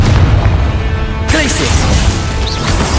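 A fiery Confringo explosive spell bursts during a busy spell-casting fight in Hogwarts Legacy, a sudden loud blast that jolts through dense, continuous game combat noise with voices mixed in.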